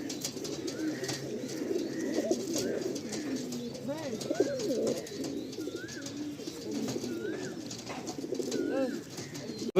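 Giribaj pigeons coo repeatedly in a loft, their soft, wavering calls close and overlapping, with muffled human voices talking underneath.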